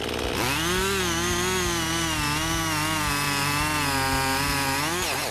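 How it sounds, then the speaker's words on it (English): A Husqvarna 55 chainsaw fells a large poplar more than 90 centimetres across, its engine holding a loud, steady, high-revving drone that runs unbroken from start to finish with no voices. "the Husqvarna 55 chainsaw easily felled a large poplar tree with a diameter of more than 90"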